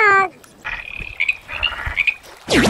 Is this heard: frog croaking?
yes